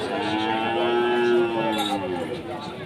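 A crossbred calf at a rural cattle market lets out a long, loud moo nearby, lasting nearly three seconds before fading.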